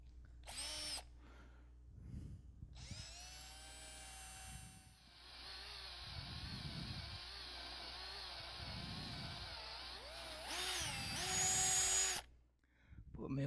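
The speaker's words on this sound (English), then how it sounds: "When I drill these holes, to start with" A power drill bores holes in a homemade walker, whining up in several long bursts that start and stop, with a voice speaking in the gaps between them.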